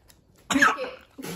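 A dog coughs after getting a big bone as a birthday present, two short rough hacking bursts close up, the second starting just as the first fades, with no talking.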